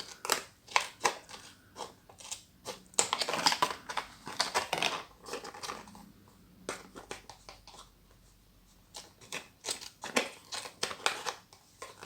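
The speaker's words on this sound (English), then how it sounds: "It's a bit difficult to cut, and this scissors not the sharpest anymore." Dull scissors snipping through a Kracie Poppin Cookin hamburger set kit packet, a run of irregular crisp cuts and crinkles with short pauses between bursts, close and fairly quiet.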